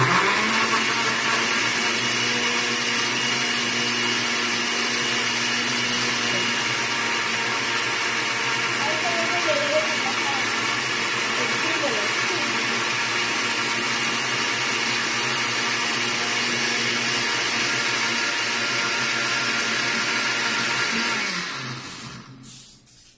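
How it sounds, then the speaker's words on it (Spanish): A blender runs steadily while blending ingredients for gelatina escamocha, a loud, close, continuous whir that holds for about twenty seconds before winding down, with no clear talk over it. "Y vamos a licuar"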